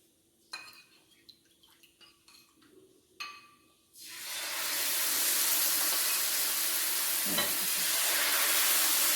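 Rice flour ghavne batter poured onto a hot pan for a fasting recipe: scattered utensil clinks and taps first, then a sudden loud, continuous hissing sizzle that holds steady and close.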